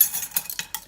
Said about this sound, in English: I'm going to stir in the 5 tablespoons of